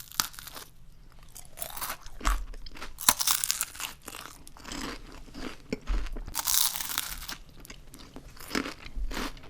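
Crunchy Ferrero Rocher chocolates are bitten and chewed up close, giving a run of sharp, loud crackling crunches in uneven bursts with softer munching and faint wrapper crinkles between them, with no talking.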